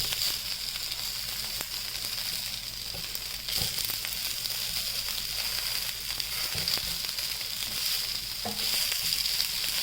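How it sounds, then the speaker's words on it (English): Poha tikki patties sizzling in a pan, a steady, dense frying hiss close up with occasional small crackles and faint utensil taps throughout, no voices. "Now let it cook on that side, and then we will flip it off to the other side."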